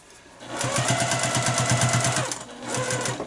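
A sewing machine stitches through several stacked fabric layers of a tight-fitting mask, a fast, even mechanical chatter running nearly two seconds, stopping briefly, then resuming up close.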